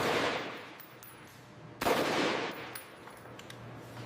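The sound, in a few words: Beretta 92FS pistol repeated live-fire testing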